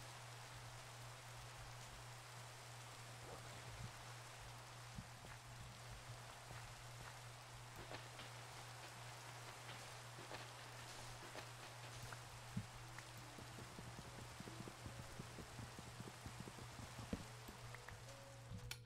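Steady rain falls in the Minecraft video game, a faint, even hiss of drops that continues throughout over a constant low hum.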